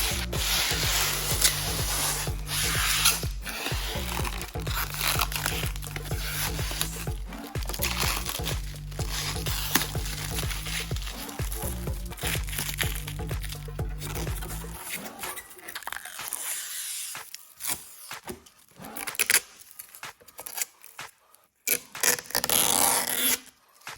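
Plastic wrapping is pulled and rubbed off a Logitech Streamcam base, making steady, close crinkling and scraping that turns into sparser, uneven rustles near the end.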